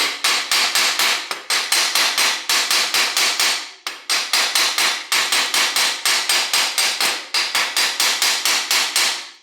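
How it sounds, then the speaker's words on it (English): Steady hammer blows tap a crank arm onto the bottom bracket spindle of a vintage Peugeot bicycle, sharp metallic knocks in quick bursts of several strikes with a brief pause midway, close and loud with no talking. "I'm going to tap in the arm onto the spindle here"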